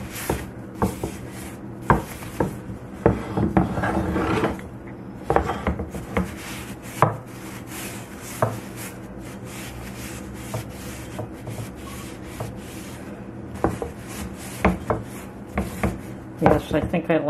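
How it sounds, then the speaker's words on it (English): Rubbing a cloth over a cast iron cornbread pan to wipe away excess oil during seasoning, close scuffing strokes with occasional knocks and scrapes against the metal. "Now to, once again, wipe away all the excess and wipe it away real good."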